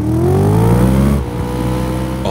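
Car engine revving close by in the rain, a loud rising drone that climbs in pitch, drops off sharply, then settles into a steady running rumble.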